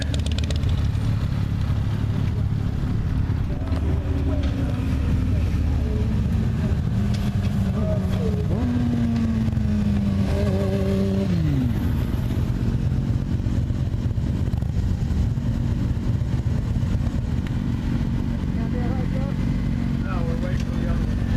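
Sportbike motorcycles hum through winding mountain curves, a steady engine drone rising and falling in pitch beneath a rider's continuous talk over the rushing wind.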